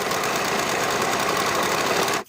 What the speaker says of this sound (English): Then I'll start a fresh set of serging stitches from the bottom of the pocket, to the bottom of the pant.